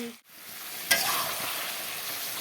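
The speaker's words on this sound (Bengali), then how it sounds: "চিকেনটাকে ভালো করে কষিয়ে নিব" Chicken pieces sizzling in a hot pan, with a brief scrape of stirring followed by a steady close frying hiss, no talk.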